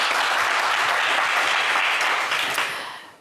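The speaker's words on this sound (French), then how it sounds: "on vous applaudit aussi" Studio audience on a French TV game show clapping together in a dense, loud round of applause that stays steady and close, then fades away at the end.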